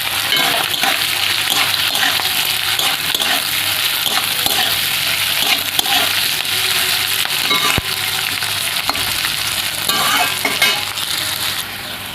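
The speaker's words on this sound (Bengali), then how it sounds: "এবার অল্প নেড়ে চেড়ে গাজরটা দিয়ে দেবো।" Flattened rice pulao fries loudly in a pan as carrots go in and get stirred, a dense, constant sizzle with steady scraping from the spoon throughout.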